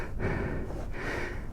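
Heavy breathing from a motorcycle rider, steady and close, with rough huffing across the whole moment and no speech.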